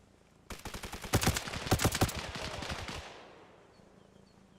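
Rapid bursts of automatic gunfire in the military shooter Arma Reforger during a milsim training night, a dense volley of sharp cracks for a few seconds before it tapers into a fading echoing tail, with no voices.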